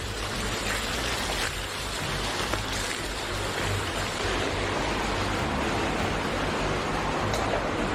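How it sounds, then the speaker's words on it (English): Rising floodwater rushes through a tunnel in a steady, loud broadband roar that fills the whole stretch without a break, with a low rumble underneath. "Anthony, look how fast the water's coming."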